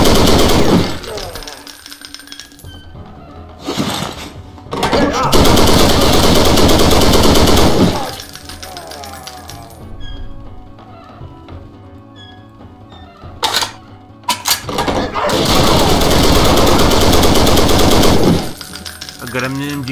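A machine gun fires in the shooter game Brutal Wolfenstein, loud and close in several long rapid bursts separated by short quieter gaps.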